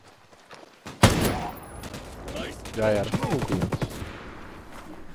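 Gunfire in the tactical shooter game Ghost Recon Breakpoint: a sharp loud shot bursts in, followed by a dense run of rapid cracks, with players talking over the action.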